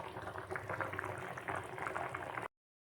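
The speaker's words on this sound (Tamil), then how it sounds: "ஒரு 2 மினிட்ஸ் நான் கொதிக்க விட்டு ஆஃப் பண்ணிடுவேன்." Chicken gravy simmers in an open pot on the stove, giving off a steady, close bubbling and gentle popping that lasts a couple of seconds and then cuts off abruptly.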